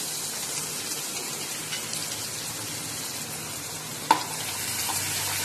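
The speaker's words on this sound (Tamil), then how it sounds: "வெங்காயம் ஆஸ் யூஷுவல் கொஞ்சம் கலர் சேஞ்ச் ஆகி பொன்னிறமாக வர வரைக்கும் லைட்டாக வணக்கிக்கிறோம்." Onion sautéing in hot oil with cumin and fennel, a soft, even sizzle like light rain with one sharp utensil tap near the end, no talking.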